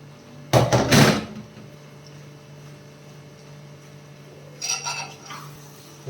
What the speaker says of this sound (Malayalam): ഡേറ്റ്സ് ഒക്കെ ഇട്ട് നല്ലതായിട്ട് മിക്സ് ചെയ്ത് കൊടുത്തു കഴിഞ്ഞാൽ